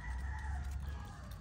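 Chickens on a farm, a rooster crowing with drawn-out tonal calls over a low steady rumble, heard faint and somewhat distant with no talk.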